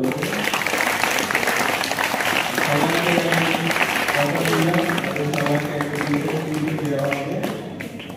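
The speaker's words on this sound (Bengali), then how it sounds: "ওদের জন্য হাততালি দাও" An audience applauds student presentations at a 2024 celebration of Swami Vivekananda's Chicago address. The clapping is steady and continuous for about eight seconds, with voices murmuring and talking underneath.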